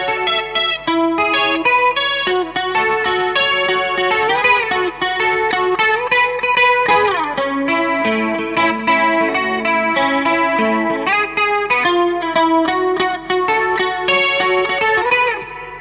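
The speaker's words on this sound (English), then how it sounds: "This is just chorus and reverb." Electric guitar played through an amp with chorus and reverb in a budget rig setup, a shimmering, wavering clean tone of ringing arpeggiated chords and sustained notes, loud and close with a reverberant tail and no talk.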